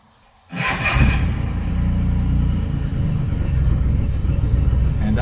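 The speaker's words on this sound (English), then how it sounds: "I will start the engine." A boat engine cranks and catches after a brief silence, then settles into a loud, steady idle rumble near the listener.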